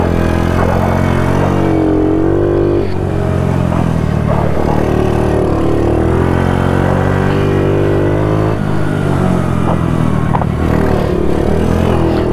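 A loud motorcycle engine runs continuously close by, its pitch rising and falling as it revs through gears.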